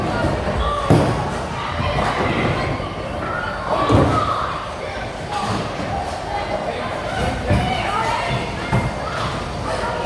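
A DV8 bowling ball is thrown down the lane at a bowling alley, with heavy thuds and rolling rumble followed by pin crashes, amid the background chatter and noise of a busy alley.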